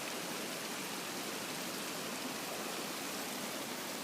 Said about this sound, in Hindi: ये सामने ग्लेशियर जो है ये है, और झरना ये आपको दिख रहा होगा, यहाँ पानी गिरता हुआ